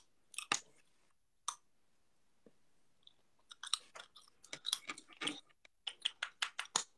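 Wet, crunchy chewing close to the mouth, a cluster of bites at first, then a pause, then a fast irregular run of crisp chomps, with no talking.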